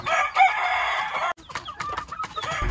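Farm chickens clucking and crowing close by, a dense stretch of overlapping calls followed by scattered shorter clucks, no talk.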